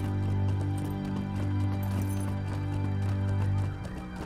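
A horse's hooves clip-clop steadily in the video game Lord of the Rings Online, a continuous rhythmic trot heard over a droning music bed, with no talking.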